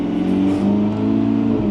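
A V8 supercar with a gated manual shifter revving hard, a loud steady engine roar heard close up, with no clear separate shifter clack standing out.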